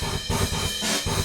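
Drums played with a heavy, bright ambience reverb effect, giving a washy, roomy tail over repeated close hits that fill the short loop at steady loudness.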